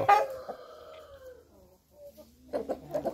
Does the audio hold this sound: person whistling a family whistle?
no